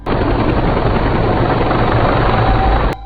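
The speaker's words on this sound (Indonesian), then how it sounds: "Tiba-tiba muncul sebuah helikopter militer" A loud, steady military helicopter roar with continuous rotor noise, sustained close by for a few seconds before cutting off abruptly.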